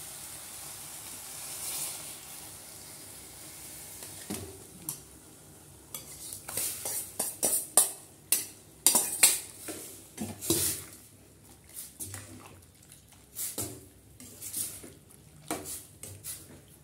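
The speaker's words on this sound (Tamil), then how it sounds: "இப்போ இந்த பாதி வேக வச்சு வச்சுருக்கிற இது நுரையீரல் போடுறது." Half-cooked goat lung pieces going into a pan and being stirred, with quiet sizzling and a burst of clattering spoon-on-pan scrapes and knocks that grows busier midway, up close, without speech.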